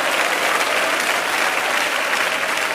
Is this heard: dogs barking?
no